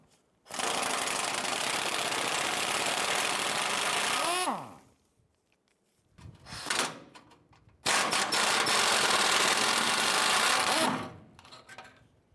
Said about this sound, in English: Using our 12mm socket, let's go ahead and remove the 2 rear ones first.